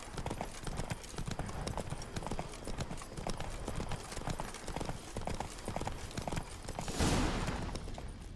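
Roach, a horse in The Witcher 3, clip-clops steadily at a walk on a road, the hoof beats close and continuous, with a brief louder burst of noise near the end.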